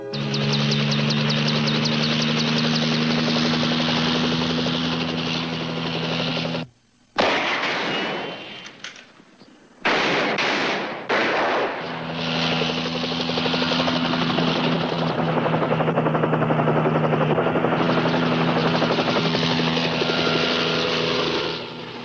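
A helicopter's heavy thumping rotor drone fills the scene, loud and continuous, broken midway by a brief dropout and a few sharp bangs like gunfire before the rotor roar resumes.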